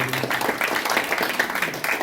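A crowd at a Gunsan YMCA anniversary celebration gives a round of applause, with many hands clapping in a continuous, fairly loud wash that holds steady throughout.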